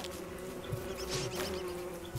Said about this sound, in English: Now I need to fight these bees.